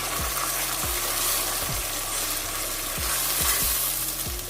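Chopped onions, one large and one small, frying in a pan for chicken do piaza, stirred steadily, with continuous loud sizzling and regular scraping strokes of the spoon throughout.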